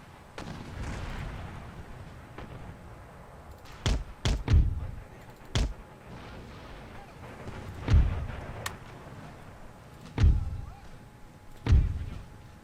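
Artillery fire in the strategy game Empire: Total War, heavy booming shots arriving singly and in quick pairs at irregular intervals over a steady low battlefield rumble, loud and fairly close.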